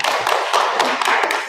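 Brief burst of classroom applause, a group of students clapping quickly and unevenly at close range for a second or two, with no talk over it.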